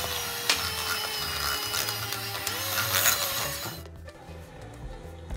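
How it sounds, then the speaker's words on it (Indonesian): Electric hand mixer whirring steadily as it beats eggs into choux pastry dough, a continuous close motor hum with a rattling edge that cuts off near the end, leaving quieter room sound. "dan terakhir mixer lagi sampai tercampur rata ya."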